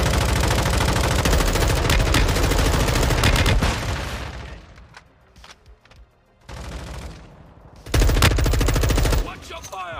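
Dense automatic gunfire in Call of Duty Warzone 2.0, loud rapid bursts filling most of the clip, dropping to a brief lull before another heavy burst near the end, with a voice chatting faintly underneath.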